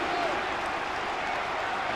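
Aston Villa fans cheering in a stadium during a League Cup semi-final, a broad, steady crowd roar filling the whole moment.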